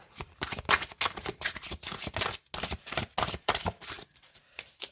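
A deck of playing cards is riffled and cut in quick bursts, crisp fluttering snaps coming in an uneven rhythm, close and fairly loud with short pauses between shuffles.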